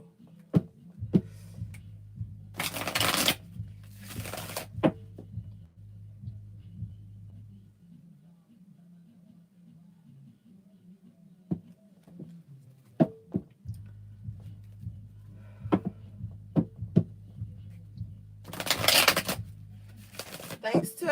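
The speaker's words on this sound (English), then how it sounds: "Oh, I didn't even shuffle." A deck of cards is shuffled in several short riffling bursts between stretches of handling taps and a low steady hum, close up and fairly quiet.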